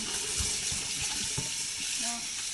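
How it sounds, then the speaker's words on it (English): Tap water runs steadily into a kitchen sink while something is rinsed out, a close, continuous hissing splash with faint knocks and brief clatter from handling. "just rinse it out, get a new batch of water"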